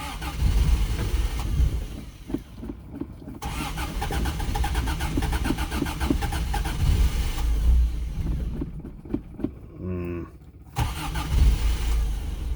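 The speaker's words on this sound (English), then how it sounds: "And with this engine's low compression numbers, it makes it really hard to tune this thing." Car engine fitted with a new carburetor, being tuned on a low-compression motor: it starts, idles roughly and revs in uneven bursts, cutting out briefly twice before catching again, loud and close.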